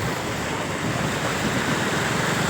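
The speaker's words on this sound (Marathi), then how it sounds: "बघा कसा प्रवाह आहे पाणी वाढलेलं आहे नदीला" The Kanhola river at Pothare runs swollen after a night of heavy rain, giving a steady, dense rush of flowing water that stays loud and unbroken throughout, with no voices.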